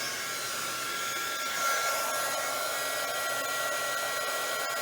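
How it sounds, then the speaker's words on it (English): A heat gun blows steadily on a resin geode painting, a continuous close whooshing roar with a slight swell partway through, alone without speech. "just a quick run of the heat gun"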